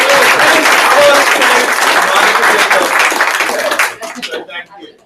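A loud, dense round of applause from a sales meeting audience, sustained clapping that fills the room before tapering off into scattered claps at the end.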